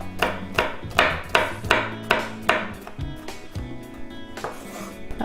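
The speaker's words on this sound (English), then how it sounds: "And then you just need to chop that finely." Knife chopping chilli finely on a board: a run of about seven sharp, evenly spaced blade strikes at close range, then quieter scattered taps, with no talking.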